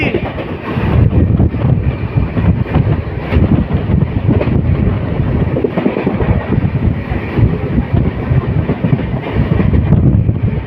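The North East Express rumbles past close by at Pundibari railway station, loud and continuous, with rattling wheels and gusts of wind buffeting the microphone throughout.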